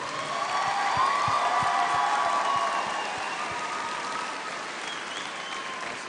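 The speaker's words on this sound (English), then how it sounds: "We need to applaud our parents for getting us here." A large graduation audience claps steadily for the parents, a loud, dense wash of applause that holds strong and then slowly fades a little.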